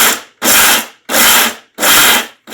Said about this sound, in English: I'm going to use a whipper mode to grind it